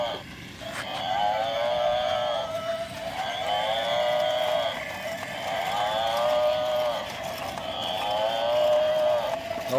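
A toy buffalo gives repeated electronic mooing calls, about four drawn-out wavering moos in a row, fairly loud and close over a steady background hiss.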